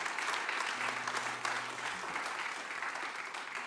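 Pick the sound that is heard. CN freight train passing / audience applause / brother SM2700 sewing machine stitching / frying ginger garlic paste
audience applause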